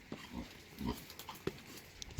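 Rosie, a mama pig kept outdoors by a dam, gives a few soft, scattered grunts and snuffles close by, short and irregular against a quiet background.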